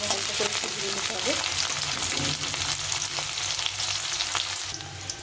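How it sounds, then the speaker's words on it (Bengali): Onion and garlic fry in a pan for fried rice made from leftover rice, a continuous close hiss with scraping stirs and a few soft knocks throughout. "পেঁয়াজ রসুনটা একটু ভেজে নেবো, হালকা করে একটু ভেজে নিতে হবে।"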